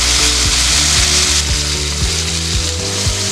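Prawn masala sizzles steadily as spices are fried with it in a pan, a constant hiss under a bed of looping background music.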